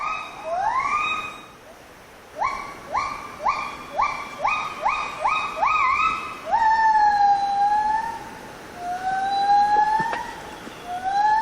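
A recording of a neighbouring gibbon group's calls plays outdoors: a series of rising, whooping hoots that repeat in quick succession and build, then longer sliding wails, fairly loud over a background of forest noise.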